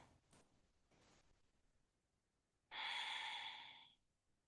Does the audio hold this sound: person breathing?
yes